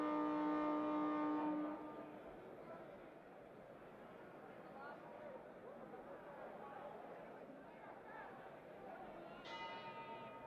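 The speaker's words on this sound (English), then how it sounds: "The bell for round 8." A boxing ring bell rings sharply for round eight at a heavyweight bout, then fades, leaving crowd murmur and commentary voices, and strikes again briefly near the end.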